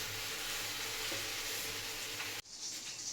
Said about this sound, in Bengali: এই যে মাছ ভাজা চলছে